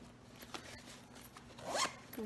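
A zipper on a handmade fabric zipper pouch is pulled closed in one quick rising zip near the end, after a few soft fabric rustles and handling taps, with no talking.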